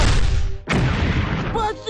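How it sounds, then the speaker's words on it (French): Artillery shelling in the strategy video game Battle Academy 2: a dense, loud barrage of booming blasts, then a sharp close explosion after a brief gap, followed by rumbling fire and faint in-game voices. "Нас сильно обстреливают!"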